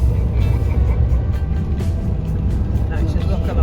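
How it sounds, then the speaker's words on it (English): Rush-hour road traffic heard from inside a moving vehicle near Fort William, a dense, steady rumble of cars and larger vehicles, loud and continuous beneath people talking. "Yeah, rush hour. Vehicles. Rush hour."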